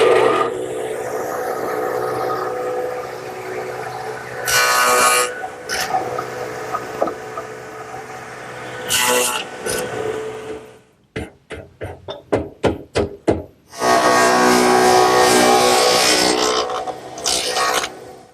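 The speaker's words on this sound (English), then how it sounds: "use the radial arm saw, which is set up with the stacked dado head cutter" A radial arm saw fitted with a stacked dado head cuts lap joints for a wooden wheelbarrow, sounding in loud whining bursts with quieter mechanical gaps, then a run of sharp separate clacks before a final long roar.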